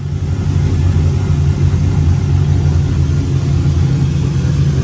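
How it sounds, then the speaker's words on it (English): A truck with an LS engine and a repaired fuel system runs at a steady idle, a loud, close, continuous low rumble with no changes in pitch. "So, truck's running again."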